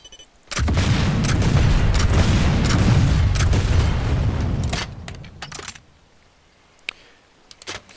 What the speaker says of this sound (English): And now I'll fire the next 4 at the fastest fire rate that I can fire them at